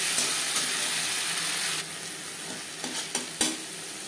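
Ginger, green chilli, garlic, onion and tomato frying in hot mustard oil, a steady loud sizzle with a few stirring scrapes near the end.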